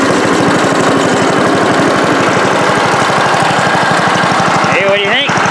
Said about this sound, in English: I just adjusted the carburetor so it runs even better